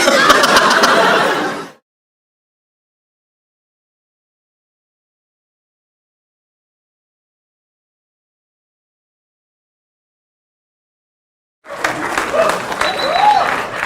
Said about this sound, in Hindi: क्या करो इन तालियों का?